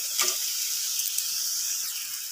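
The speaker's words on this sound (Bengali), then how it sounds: "দাঁড়াগুলো বেশ করে কষিয়ে নেব।" Crab claws sautéing in hot oil in a pan give a steady, close, bright sizzle that holds for the whole moment, with a few soft crackles on top and no voices.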